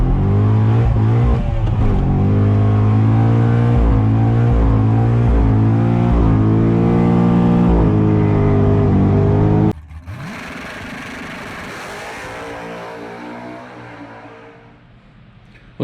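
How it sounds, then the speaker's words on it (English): A 2007 Chevrolet Corvette Z06 does a burnout, its V8 roaring loud and steady with rising revs, then cutting off abruptly into a fading whir and tire hiss. "a little bit of a burnout in front of your buddy's house."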